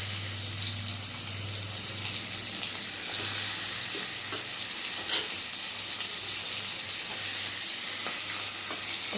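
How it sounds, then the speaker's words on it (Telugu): Onions frying in oil in a pan, a steady bright sizzle that runs the whole time, loud and close, with a low hum underneath and a few soft clicks of stirring. "వేసుకొని ఇప్పుడు ఆనియన్స్ అవి ఫ్రై చేసుకోవాలి."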